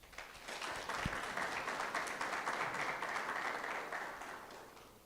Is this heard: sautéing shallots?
no